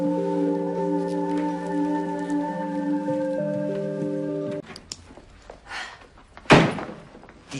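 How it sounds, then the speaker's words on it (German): A flat's door closes with a single thump, heard after a stretch of sustained tonal music; soft shuffling and a sharper knock follow in a quiet room. "Die Tür ist zu."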